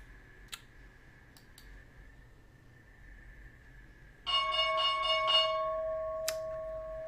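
Stock market opening bell ringing at the start of the trading day: a loud sustained electric bell that cuts in sharply and rings steadily for about two seconds, preceded by quiet room tone and a few soft clicks.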